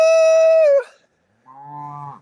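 Cattle on a farm during an early-morning move, one loud drawn-out high call cutting off sharply, then after a short pause a lower, fainter moo from another animal, with no talk.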